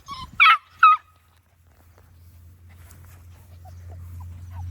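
Two short, sharp barks from a Doodle dog come close together at the start, followed by quiet with a low hum building.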